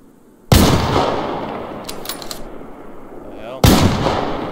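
Two heavy anti-tank rifle shots ring out in the Survarium shooter, each a sharp, loud blast with a long rumbling tail, about three seconds apart, with faint mechanical clatter between them.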